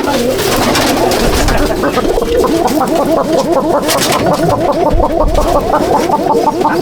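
Chatiyal pigeons in a loft coo close to the microphone in repeated, rhythmic throaty calls, several birds overlapping in a steady stream.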